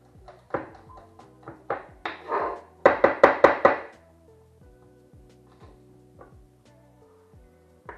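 A kitchen knife comes down on crushed ingredients on a cutting board, some taps scattered, then a quick run of about five loud chops in a row. The hits ring out clearly against a quiet room for a simple creamy tomato pasta.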